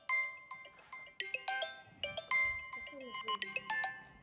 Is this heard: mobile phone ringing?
yes